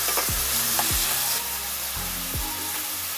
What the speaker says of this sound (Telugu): గోల్డెన్ కలర్ వచ్చే వరకు ఫ్రై చేసుకోవాలి